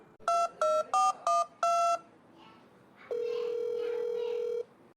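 A phone call is placed in a Tamil TV serial: five short keypad dial beeps sound in quick succession, then after a brief pause a long, steady ringback tone rings out, clear and close.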